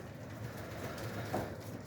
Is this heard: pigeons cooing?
yes